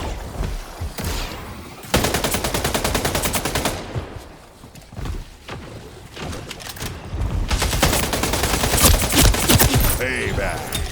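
Rapid gunfire in the shooter game Takedown, dense automatic bursts rattling loud and close for most of the stretch, with short pauses between volleys and a voice faintly underneath.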